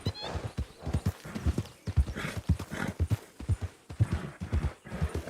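Horse hooves clip-clop at a steady trotting rhythm in the RedM western video game, loud and close, with occasional neighing and snorting mixed into the repeated hoofbeats.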